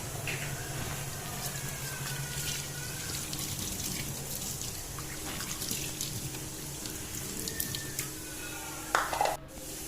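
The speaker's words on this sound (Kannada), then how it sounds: "ಇವಾಗ ಜಾರು ತೊಳೆಯಕತ್ತೀನಿ." Tap water running steadily into a sink while a mixer grinder jar is washed after cooking, a continuous near splash with a brief clatter near the end and no talk.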